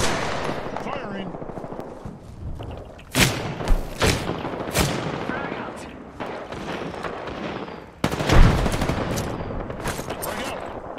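Gunfire in Apex Legends, with bursts of rapid automatic shots and heavy thumping impacts scattered over several seconds, some loud and close, others more distant, over a busy game background.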